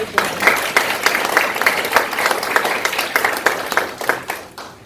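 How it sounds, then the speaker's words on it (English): Sustained audience applause fills a gala soiree hall after a speaker is introduced, dense steady clapping from a large crowd lasting throughout, fairly loud and close. "Let's please give her a round of applause."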